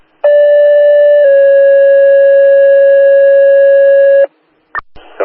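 Concord, Massachusetts fire alarm box tones strike for a working fire at a school, a loud steady two-pitch electronic tone held for about four seconds, followed by brief radio static clicks and bursts.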